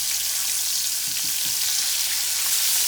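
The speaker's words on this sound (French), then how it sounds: "je vais finir la cuisson du bacon" Bacon fries for a hamburger with a steady, close sizzling hiss, unbroken for a few seconds, with a faint low thump or two beneath and no talking.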